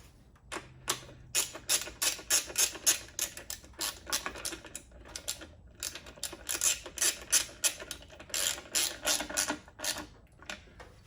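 A ratchet tightens a screw on a Subaru Legacy power steering pump, its rapid clicking pawl sounding in uneven bursts of strokes with brief pauses, close and fairly quiet, no talk.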